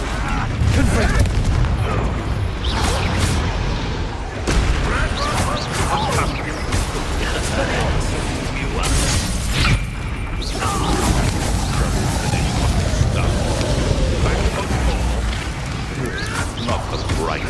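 Confringo fire spell blasts in Hogwarts Legacy, a game battle of repeated loud booms and crashing impacts layered with combat effects and spoken voices throughout.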